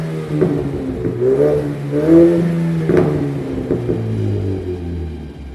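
A Ford Mustang EcoBoost with an aftermarket exhaust is revved in a shop, a loud, close engine note that climbs and falls through several throttle blips over a deep steady rumble.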